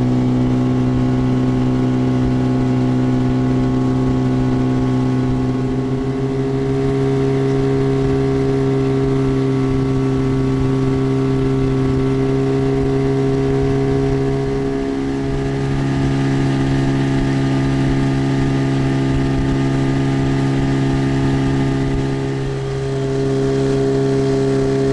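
A Gladiator 9.9 outboard motor on a small boat drones steadily and loudly throughout, with a constant mid-pitched hum and slight swells, running close by.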